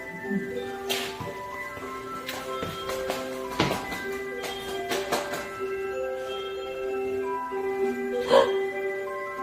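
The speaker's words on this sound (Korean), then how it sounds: "오르골 소리 들리지 지금." An antique orgel music box gives a demonstration at Petite France in Gapyeong, its delicate plucked metallic notes ringing out in a slow tune over a faint room murmur and occasional taps.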